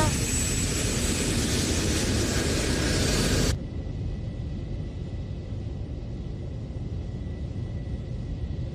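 Airplane cabin on approach for landing: a steady loud roar of engines and airflow fills the space, then drops abruptly to a quieter, duller drone that continues evenly.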